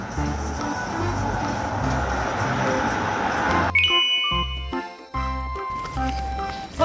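A death alarm from a dice-rolling board video game where pieces move between bus stops: a bright chime-like jingle starts partway through and plays as a sequence of tones over steady game music.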